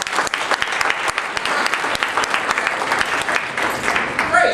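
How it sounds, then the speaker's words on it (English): Sustained audience applause at an improv comedy show, a dense, steady patter of many hands clapping close and loud throughout, with a few cheers mixed in toward the end. "how many are here by applause for your first improv shows?"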